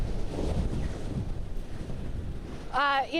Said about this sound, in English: things have gotten significantly worse as far as those winds go